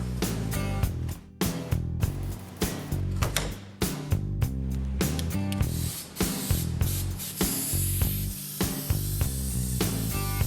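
Aerosol spray paint cans in black, silver and white hiss in steady bursts while painting a bobbed deuce truck, each spray separated by short pauses, close and fairly loud with no talking.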